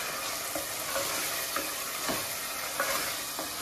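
Chicken curry masala fries in a pan with a steady, close sizzle, broken now and then by the soft scrape of stirring; no one speaks.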